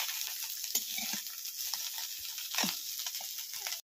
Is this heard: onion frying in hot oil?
yes